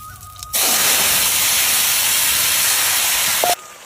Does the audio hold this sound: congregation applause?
no